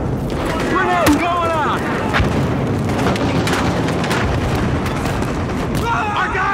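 Grenade blasts in the video game Battlefield Hardline, a team deathmatch battle: repeated loud explosive bursts and gunfire crackle fill the scene, with brief shouted voices and chirping tones mixed into the chaos.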